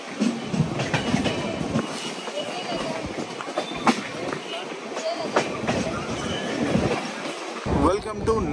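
Jan Shatabdi Express rolls on after leaving platform 1 at Gudur junction, heard from inside with a continuous rumbling roar, rhythmic clicks of wheels over rail joints and a swell of noise near the end.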